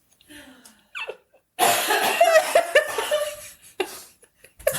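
Several harsh coughs and throaty bursts come in quick irregular fits after a quiet breathy start, fairly loud and close.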